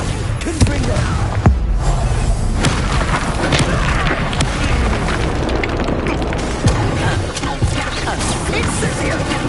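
Repeated booming blasts from the Bombarda explosion spell in the video game Hogwarts Legacy, loud and continuous across a busy battle mix, with spoken voices over the explosions.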